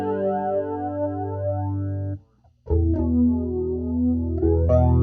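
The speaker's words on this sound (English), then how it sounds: "So that's flanger" Guitar through a flanger pedal swept with a treadle, sustained clean chords with a swirling, jet-like modulation, cut by a brief gap before the chords ring out again.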